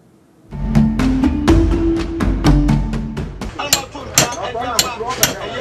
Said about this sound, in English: Hammers strike iron.